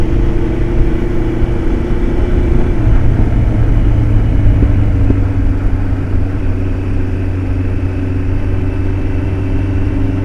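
A 1977 Kawasaki KZ1000 restomod motorcycle pulls onto a main road, its engine droning steadily and loudly throughout with a gear change partway, recorded close from the rider's seat with heavy wind rush.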